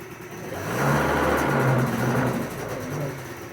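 An old, neglected scooter's small engine runs and revs up steadily, a loud, close mid-pitched drone that swells and eases over a few seconds, with no voices.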